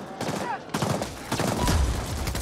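Gunfire from a lock-on weapon in the sci-fi shooter The Ascent, a busy stretch of overlapping shots and bursts under steady game noise, with a voice talking faintly in the mix.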